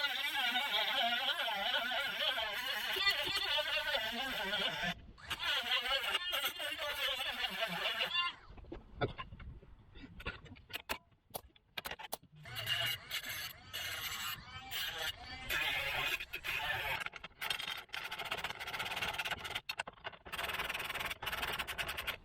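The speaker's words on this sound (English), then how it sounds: "So now I have to grind carefully around to fit exactly this hole." Metal grinding on the rusty body of a Jaguar XJ under repair: a close, harsh rasping whine that runs steadily, then breaks into short stop-start bursts with brief pauses between passes.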